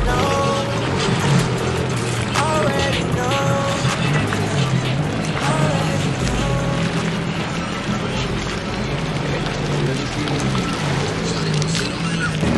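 A rental jet ski engine runs steadily on the open water of Biscayne Bay, Miami, with constant loud motor drone and splashing spray throughout.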